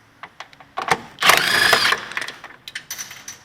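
Ratchet loosening 14mm top strut bolts on a Honda front strut, quick clicking pawl bursts followed by a longer grinding turn, then more scattered clicks, close and fairly loud.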